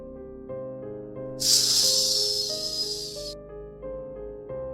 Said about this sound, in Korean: 치익 소리를 내며 문이 닫히고